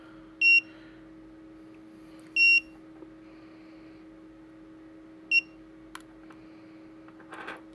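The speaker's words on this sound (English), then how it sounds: "hold this until the third buzzer" Eachine EV100 FPV goggles sound three short, faint electronic buzzer beeps, spaced a couple of seconds apart, while the receiver is being switched, with a steady low hum beneath.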